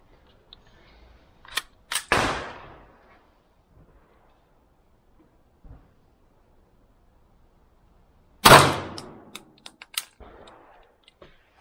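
A GSG 1911 Target pistol in .22LR fires GECO cartridges at 25 metres, giving two sharp, loud reports several seconds apart, each trailed by short clicks and mechanical rattles, with no talk.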